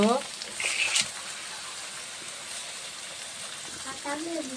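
Mutton goes into a pan of fried potatoes and onions, giving a burst of loud sizzling and clatter at first that settles into a steady softer frying hiss.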